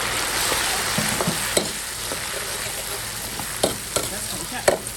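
Pork fat is stir-fried in a pot with ginger, garlic, Sichuan peppercorns and chopped chili in an outdoor rural kitchen, making a continuous close sizzle broken by scattered scraping knocks of a spatula against the pot.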